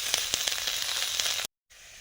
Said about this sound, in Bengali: আর এখানে বাটার দিয়ে ফুলকপিটা ভাজা হচ্ছে